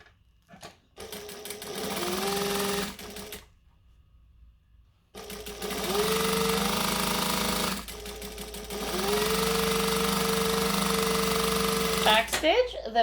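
A sewing machine back stitches and sews jacket sleeves in three long, loud runs of rapid mechanical hum with short stops between them, and a brief clatter of handling at the very end.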